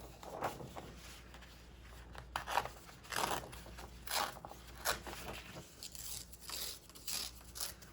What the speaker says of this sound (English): I'm actually going to tear another sheet of paper.